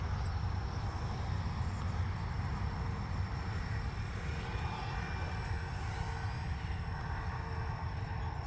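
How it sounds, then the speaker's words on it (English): A small RC model plane's engine drones steadily in the distance while it comes in for a full-flap landing, a continuous buzzing hum with a thin high whine and no talk over it. "So we'll bring it down here and we'll try a flap landing."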